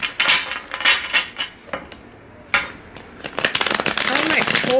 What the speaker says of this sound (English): It's kind of hard to shuffle, so I always make sure I just do like a pre-shuffle.